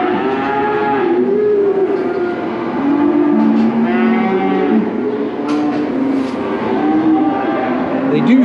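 Cattle in a crowded feedlot pen moo loudly and repeatedly, several overlapping calls near and far in a continuous chorus, with a faint engine hum beneath.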